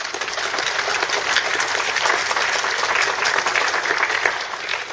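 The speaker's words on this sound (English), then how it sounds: "let's give him a round of applause" A conference audience at a maritime aids-to-navigation session gives a loud, dense round of applause, continuous and even for several seconds.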